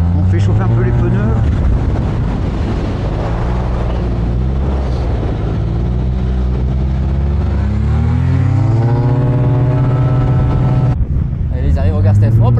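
A Yamaha TMAX turbo scooter lapping a race circuit on a warm-up tour, its engine droning loud and close with rising and falling pitch as it accelerates and eases off, wind buffeting the microphone throughout.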